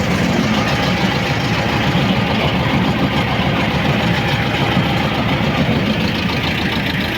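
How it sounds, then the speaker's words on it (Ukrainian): A T-25 tractor engine runs steadily at idle, a loud continuous low rumble with rapid knocking pulses and no pauses. "Завів трактора, якось так воно крутиться."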